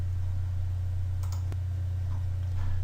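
A computer mouse clicking an OK button gives a few small, close clicks, one crisp and distinct, over a steady low mains hum.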